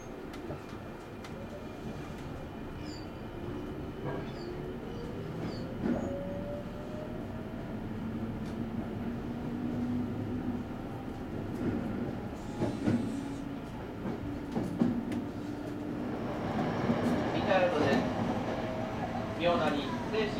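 A Sanyo Electric Railway limited express train running between Himeji and Koshien, a continuous rumble of wheels and motor heard from on board, with occasional rail clatter and a rising whine near the end while announcements play over it.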